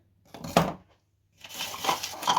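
Clinking of dishes and utensils being handled near a sink, a short clatter, a pause, then more rattling and scraping.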